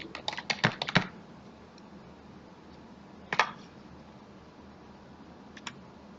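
Keys on a computer keyboard are typed in a quick burst, then a brief second flurry and a final tap, close and moderately loud over a low room hum.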